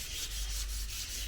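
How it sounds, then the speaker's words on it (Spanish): Wood is sanded by hand with sandpaper before a polyurethane varnish, a quick series of rhythmic back-and-forth scratchy rubbing strokes, close and fairly quiet, with no talking. "me tocó lijar a mano"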